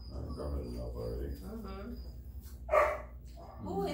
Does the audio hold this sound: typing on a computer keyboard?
no